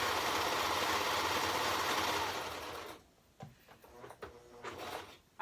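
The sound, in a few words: sewing machine hemming fabric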